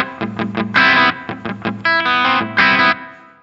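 Electric guitar through a Boss SD-1 overdrive pedal set to its lowest gain, with mildly driven, harmonically rich chords and short stabs played in a loose rhythm, loud and close with no talking.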